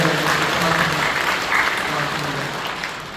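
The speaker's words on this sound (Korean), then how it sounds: "박수" Congregation applauding during a Korean church service, a dense steady wash of many hands clapping that fills the whole moment at full volume, with faint voices mixed underneath.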